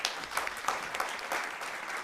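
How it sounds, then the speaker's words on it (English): An audience at a side event on private sector investment for climate plans claps for three panelists, a fairly quiet, brief patter of many hands with slight swells. "Please, a big applause for the three of them."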